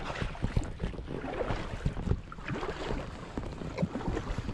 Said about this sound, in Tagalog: Mag-row the boat.